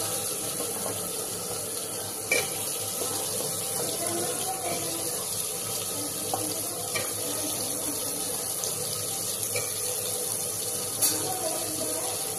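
Tap water runs steadily while pumpkin pieces are washed in a kitchen, a soft continuous splashing with a few faint clinks, fairly quiet and without talk over it.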